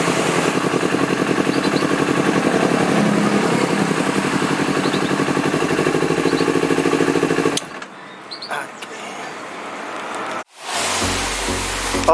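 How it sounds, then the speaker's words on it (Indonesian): A Honda CBR 250RR with an O2 sensor and throttle fault, heard close as a loud, steady engine roar that suddenly cuts out, sputters unevenly for a couple of seconds, then drops to near silence before a brief loud noise returns. "kalau posisi seperti ini dia digas, motornya itu kayak kehilangan ini dan kondisinya itu mati"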